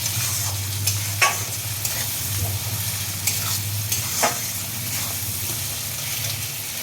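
Mutton frying in a pan with cumin powder for a Sunday lunch dish, a loud continuous sizzle with a low steady hum and a few sharp scrapes of a stirring spoon, without any talking.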